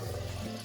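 Water runs steadily into a pot over salt fish being rinsed in a home kitchen, a continuous close wash with no talking over it.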